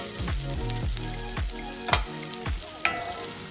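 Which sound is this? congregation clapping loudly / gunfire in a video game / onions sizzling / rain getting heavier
onions sizzling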